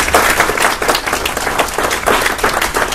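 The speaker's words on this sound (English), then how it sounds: "Give Deborah a big round of applause" An audience at a mastermind event claps loudly and steadily for a speaker, a dense, close round of applause that fills the whole moment.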